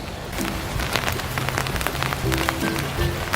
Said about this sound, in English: Too bad it never stopped raining.